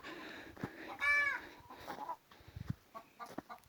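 A hen that is not laying eggs clucks nearby in a chicken coop: one drawn-out squawking call followed by a few softer, short clucks.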